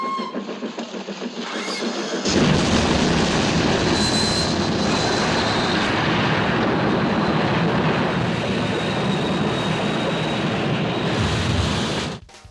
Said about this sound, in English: Followed by a tense stumble to a detonator switch, and it all ends in a bang.